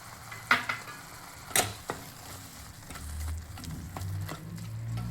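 Chukka (sorrel) leaves with a little jaggery being stirred and sautéed in a pan, a soft sizzle broken by a few sharp spoon scrapes and clinks on the metal, with no talking.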